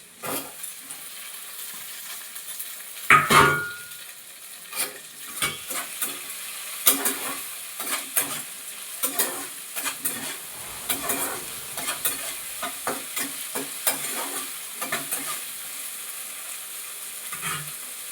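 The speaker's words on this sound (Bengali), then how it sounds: "নাড়াচাড়া করে নেব পেঁয়াজের সাথে" Tomato and green chilies are stirred with onions and ginger in a hot pan, giving a quiet frying sizzle under repeated scraping strokes of a spoon in an irregular rhythm, close and moderately loud.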